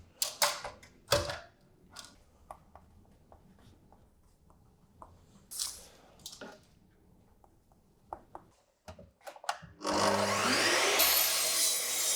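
A hand saw cuts wood for dovetail joints, with strokes along square edges; short rasping bursts near at first, then a loud, continuous sawing run toward the end.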